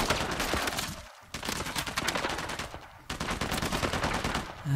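Sustained bursts of heavy automatic fire from a mounted gun in the Uncharted 4 video game, loud and dense, briefly pausing twice before resuming, with no voices.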